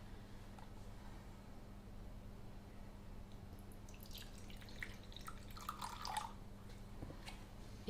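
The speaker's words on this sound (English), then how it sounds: "I'm going to put in 50 mils of room temperature water." About 50 ml of tepid, room-temperature tap water poured into a bowl while making macarons: faint close trickling and dripping that builds in the second half over a quiet kitchen background.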